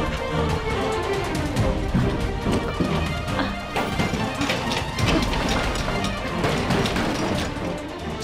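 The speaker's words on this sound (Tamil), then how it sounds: "இன்னும் கொஞ்சம் பலமா தள்ளினா நிச்சயமா கதவு உடைஞ்சிரும்." People shoving and battering hard at a door to break it open, loud repeated bangs and clattering knocks with rattling, under continuous background noise.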